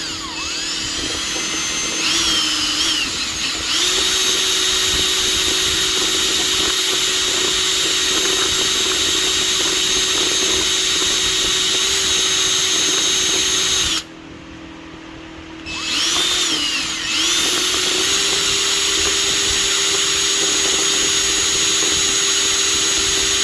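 A power drill with a 9/64 inch bit runs as a steady, loud whine for most of the stretch. It stops briefly about two thirds of the way through and then starts again, with no talking over it.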